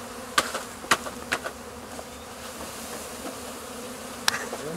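Honey bees buzzing during a package install into a top bar hive, a steady close swarm drone broken by several sharp knocks and taps.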